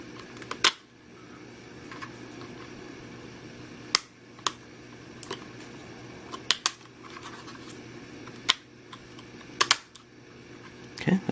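A RAM module is pushed into the slot of an older laptop, making scattered sharp plastic clicks and snaps over a faint steady hum, with no talking.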